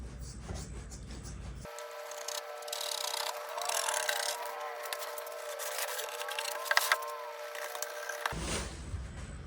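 Dried homemade blind material being cut out, a steady scraping, rasping cut lasting several seconds with a faint continuous tone underneath and a few sharper crackles near the end, close and alone without talk.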